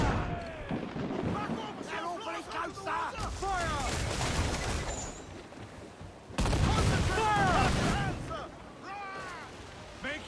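Ship cannons boom repeatedly during a naval battle in Assassin's Creed 4: Black Flag, heavy blasts and crashes landing in clusters amid ocean and battle noise, with a voice talking over parts of it.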